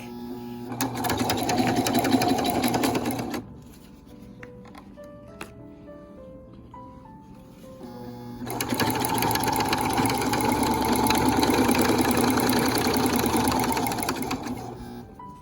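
A sewing machine stitches through thick corset fabric in two long close bursts of rapid mechanical whirring, with a quieter pause between them that holds a few faint taps and tones.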